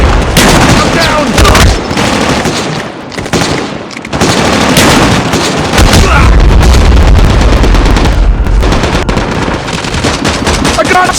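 Rapid bursts of gunfire in the survival game Rust, loud and dense, with automatic-sounding volleys and heavy booming shots nearly continuous throughout, mixed with occasional shouted voices.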